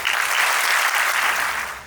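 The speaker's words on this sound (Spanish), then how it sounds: "para que les pida un aplauso" A crowd of parents and guests applauds at a French lycée graduation ceremony in Cali, producing a brief, even burst of many hands clapping at a steady level.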